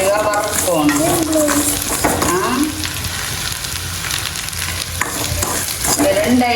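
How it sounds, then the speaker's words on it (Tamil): Fennel seeds and spices dry roasting in a pan, steady close sizzle and rustle with a utensil stirring and scraping against the metal throughout, a voice talking faintly underneath. "பெருஞ்சீரகம் இதையும் போட்டு நல்ல வடிவாக வறுக்கணும்."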